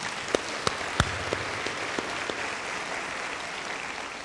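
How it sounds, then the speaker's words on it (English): School administrators at a retreat applaud themselves, a steady wash of crowd clapping heard at moderate distance, with a few distinct nearby claps early on before it settles into an even patter. "Give yourselves a round of applause."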